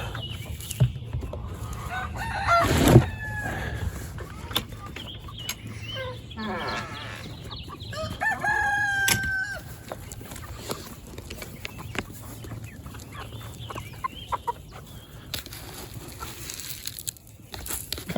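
Chickens in an outdoor run cluck and murmur throughout, with a rooster crowing loudly near the start and a second crow partway through, over a steady low background hum.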